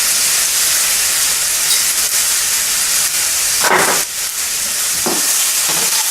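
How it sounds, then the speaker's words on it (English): Pineapple frying in an electric cooker while being stirred, a steady close hiss and sizzle throughout with a few brief scraping stir sounds near the end. "Stir it up, stir it well. The pineapple will also be roasted in here."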